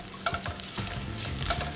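Ginger and garlic fry gently in goose fat in a pan, a soft close-up sizzle broken by scraping stirs and small clacks of a utensil, with no voices.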